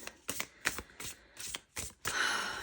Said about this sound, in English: just going to give it a little shuffle.